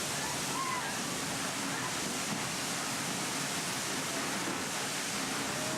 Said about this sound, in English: Just as mesmerising is the cascading water flow of spectacular waterfalls.